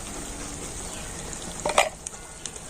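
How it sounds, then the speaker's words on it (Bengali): A besan mixture cooking with ghee in a pan, a low steady sizzle with a brief louder scrape of stirring partway through and a few small knocks after it, close and without talk. "তো ঘিটা দিয়েও তো আবার এরকম কন্টিনিউ নাড়াচাড়া করে নেব"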